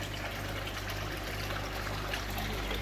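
Water trickles slowly through a filtered system, filling it up, as a steady, even hiss and gentle flow with no breaks, fairly close, over a low constant hum.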